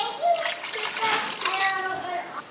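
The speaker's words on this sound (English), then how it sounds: "I'm gonna add the water." Water pours steadily into a soup pot of broth for Italian orzo soup, a splashing trickle with a voice faintly audible underneath.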